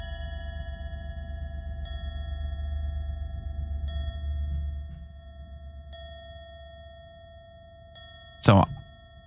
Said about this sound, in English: I think what this is that the chimes represent the time